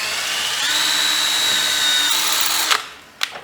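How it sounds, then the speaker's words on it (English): A power drill bores a hole while rigging a throttle on a long-idle old vehicle, giving a loud, steady whine that runs for about a second and a half before winding down, followed by a couple of sharp clicks. "Let us drill a hole right here."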